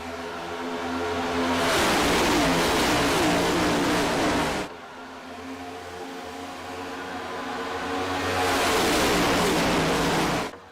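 Race cars in a stock-car racing game at the Daytona restart, a loud engine roar that swells as the pack accelerates past, dips briefly, then builds again into a second full-throttle surge.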